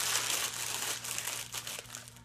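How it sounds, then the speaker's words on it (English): Paper being crumpled into a ball to form an ice cream scoop for a paper mache armature, a steady close crinkling and crunching that runs the whole time with no voices. "I'm gonna crumple up my paper"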